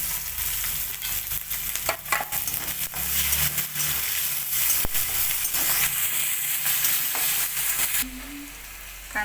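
Onion, mustard seeds, cumin, curry leaves and green chilies fry in hot oil for batata poha, a steady close sizzle running throughout with occasional stirring scrapes and clinks.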